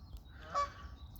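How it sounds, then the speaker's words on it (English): A goose gives a single short honk at a distance by a lake with fishing platforms, a faint brief call over low outdoor rumble. "Just where that goose is."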